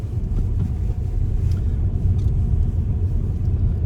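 A car pulling away from a parked position on a driving test route in Raheny, with a steady low engine and road rumble throughout and some wind noise, no talking.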